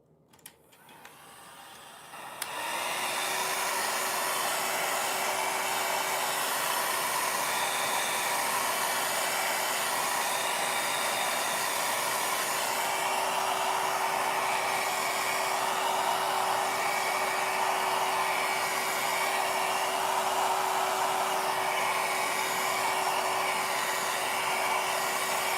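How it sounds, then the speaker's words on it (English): A small electric drying tool blowing on watercolor nail art, a steady loud whir with a constant hum that starts after a brief quiet moment and runs unbroken to the end. "I'm going to dry this now with my same little tool"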